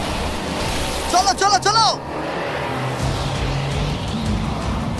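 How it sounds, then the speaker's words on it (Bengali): A racing jet ski roars across open water in a steady, rushing wash of engine and spray, while a voice shouts excitedly over it early on. "জেট স্কি অনেকটাই জোরে যেতে পারে।"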